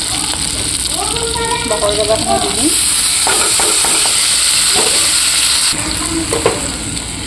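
Bamboo shoots dropped into hot oil crackle and sizzle loudly and continuously, with stirring scrapes and a voice briefly over the frying.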